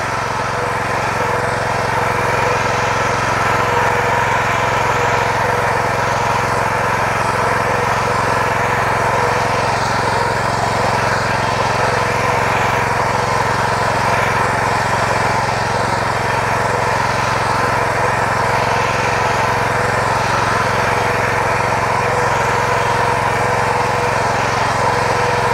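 A Rotakt MF 400 walk-behind cultivator runs in third gear at fairly high revs, its small engine giving a loud, steady, unbroken drone close by with no letup.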